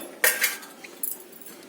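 A metal spoon scraping and clinking against a pot while stirring flattened rice payasam, with a couple of close, sharp clinks followed by softer scraping.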